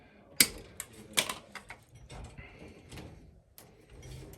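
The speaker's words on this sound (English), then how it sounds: "Actually gonna trim this one a little bit." Electrical wire being trimmed during a gas furnace replacement: a few sharp, close snips and clicks of the cutting tool, with quieter handling and rustling between them.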